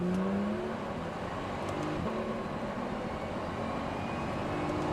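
A Porsche 911 Turbo pulls away hard on a racing circuit, its engine a steady, sustained roar that rises slightly as it accelerates, heard from inside or near the car with no voices.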